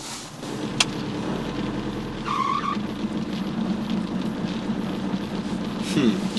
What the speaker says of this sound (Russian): двигатель у него как-то не очень правильно работает